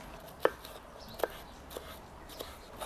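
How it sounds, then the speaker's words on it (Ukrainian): Knife chopping bell pepper for a Greek salad on a cutting board: a few sparse, sharp cuts spaced irregularly, close and fairly quiet with no talk. "Тепер нарізаємо болгарський перець."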